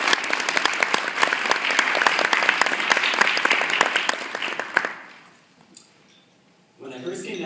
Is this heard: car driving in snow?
no